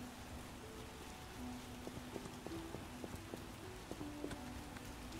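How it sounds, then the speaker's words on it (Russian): Steady rain falls across a countryside area near Vizima in The Witcher, a constant soft wash under faint hoofbeat-like clops and small game sounds, with no talk. "Дождик пошел."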